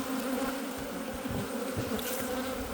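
Honeybees buzz steadily in an opened hive being checked for winter, a colony in poor condition with bad larvae; a dense, continuous close hum fills the clip with no talking.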